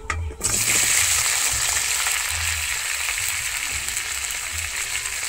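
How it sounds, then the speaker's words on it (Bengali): Steady, loud sizzling of chopped tomato frying in hot oil, starting abruptly and crackling continuously with faint stirring clinks. "আমি এরপরে দিয়ে দিচ্ছি কেটে রাখা টমেটোটা।"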